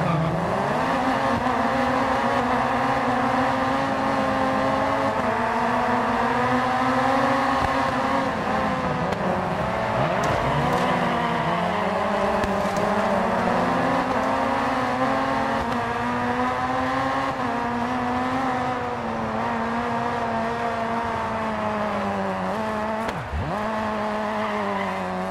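Race cars in a DiRT 4 rally event roar continuously, engines revving up and down through gear changes over the whole stretch, with brief tire noise, no talk.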